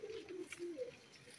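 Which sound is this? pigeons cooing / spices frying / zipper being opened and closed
pigeons cooing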